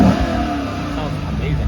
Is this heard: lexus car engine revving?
yes